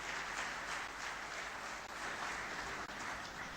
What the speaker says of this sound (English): We need to give Simon Padgett a very, very big round of applause.